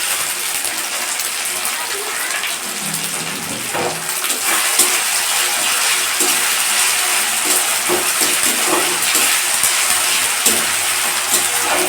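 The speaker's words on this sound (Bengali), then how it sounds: "একটু ভালো করে ভেজে নেব।" Lettuce sabji frying in a pan, a dense, continuous hiss and sizzle with scattered crackles and occasional stirring clinks, close and fairly loud throughout with no speech.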